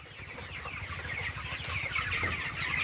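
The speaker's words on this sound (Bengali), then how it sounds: "আরো দুইটা মুরগি ধরবো" Farm chickens cluck in a continuous close chorus as more birds are grabbed for weighing, the calls building slightly louder toward the end with soft scuffling below.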